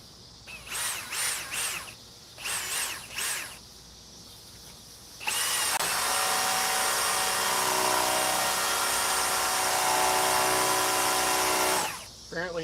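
A high torque cordless hammer drill (1,250 inch-pounds, 8 amp battery) boring with a 1.5 Diablo bit: a loud, dense whirring grind runs steadily for about six seconds after a few short bursts, then cuts off.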